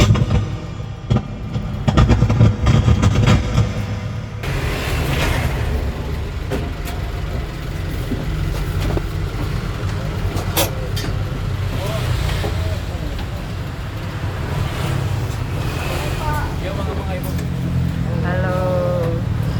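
Bandros tour bus driving through Bandung, West Java, Indonesia, a steady low engine rumble and road noise continuing throughout, with voices talking over it.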